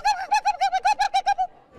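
A person imitates a turkey gobble with a quick run of about ten short, pitched warbling syllables, loud and close, trailing off into quiet at the end.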